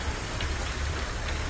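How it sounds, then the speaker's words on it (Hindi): Steady rain falls during a May shower in Meerut, western Uttar Pradesh, a dense, even hiss of drops on surfaces with a low rumble, continuous and fairly loud with no voices. "बारिश की बूंदें"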